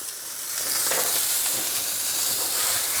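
A pork chop sizzles and spits in a hot frying pan as rosemary and butter go in, giving a steady, loud crackling hiss with brief bursts of spattering throughout, with no talking.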